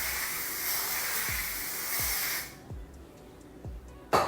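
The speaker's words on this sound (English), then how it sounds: "I'm gonna go ahead and do my Lysol spray." Lysol disinfectant aerosol spray released in one continuous hiss lasting about two and a half seconds, fairly close, followed by quiet room sounds and a few soft taps.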